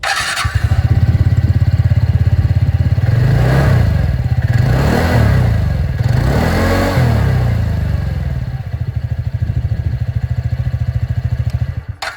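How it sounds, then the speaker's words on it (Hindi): A 2026 TVS Ntorq 125 Race Edition scooter runs close by at a loud, steady idle, then its engine revs up several times in the middle before settling back to a burbling idle. "अब मैं आप लोगों को यहाँ पर जो आप कह सकते हैं एंटॉर्क 125 इसकी भी आवाज़ सुना दूँ,"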